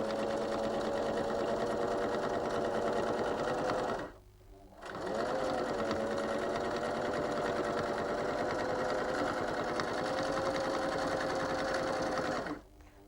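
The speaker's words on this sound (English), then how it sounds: "And having put the pins in at right angles, I'm able to sew over the top of them." A sewing machine stitches steadily over pins set at right angles across the seam, a close, even mechanical whirr that stops briefly near the middle and then runs on before halting at the end.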